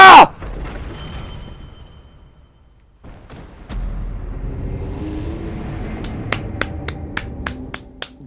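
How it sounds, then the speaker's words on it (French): A streamer claps his hands about eight times, sharp close snaps in a steady run at the end, over quiet ambient Bloodborne game sound after a brief loud burst at the start. "j'applaudis"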